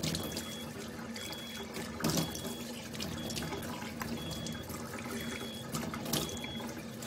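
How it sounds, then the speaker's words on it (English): Water runs steadily from a home beauty-water machine, a continuous soft splashing stream with faint repeating clicks, fairly quiet and without any talking. "So the water is coming from a machine, and I turn it on to a beauty water."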